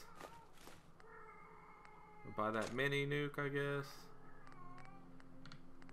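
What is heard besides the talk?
cat meowing in the background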